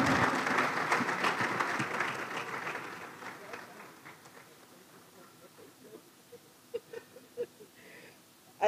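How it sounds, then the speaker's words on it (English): Conference audience applause, a dense burst of clapping from a crowd that fades out over several seconds, leaving a quiet room with a few scattered claps and small noises. "I think she deserves a bigger round of applause"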